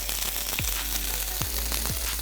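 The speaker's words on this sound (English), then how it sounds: "You gotta hear the sizzle." Food sizzles steadily in a hot frying pan while shrimp and grits are cooked, a loud continuous crackle broken by a few soft knocks of utensils against the pan.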